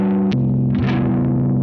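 Electric guitar run through a Smirnov Electronics WhammyD2 pitch-shift pedal, set 3.5 tones down: a steady, heavily effected low chord that bends lower partway through and holds with a distorted, processed tone.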